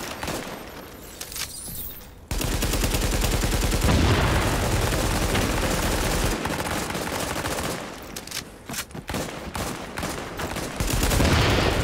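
Explosive rounds fire in Tom Clancy's The Division during a PC Dark Zone firefight, a dense, loud barrage of shots and blasts that runs nearly nonstop after a brief quieter opening, with no voices.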